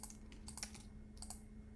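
Short burst of computer keyboard typing while searching for Blender geometry nodes: a few close, light key clicks in two quick clusters separated by a pause, quiet and without speech.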